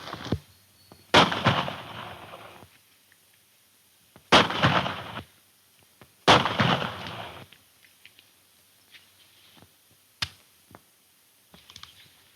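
Gunshots in a 1934 Buck Jones western serial: three loud, close shots ring out about two seconds apart, each with a long echoing tail, followed by a few sharper, fainter cracks.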